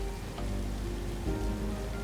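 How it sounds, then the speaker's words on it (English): Heavy rain from the video game Satisfactory, set to its heaviest downpour, hisses as a steady dense patter. A low steady hum sits beneath it, and no voices are heard. "so that's the reason why it's always raining, even in the desert"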